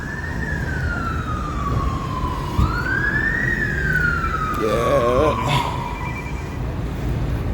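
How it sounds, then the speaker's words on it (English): A wailing police siren rises and falls over steady traffic rumble outside the Saudi Arabian Embassy in London, loud and fairly close, with a brief burst of voices partway through. "I can hear sirens already."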